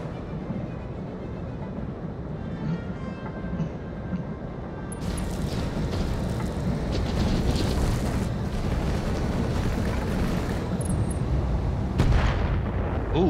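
Battlemechs trade weapons fire in Battletech, heavy booming cannon and artillery-like blasts rumbling continuously, growing denser and louder midway with sharp impacts near the end, no talking.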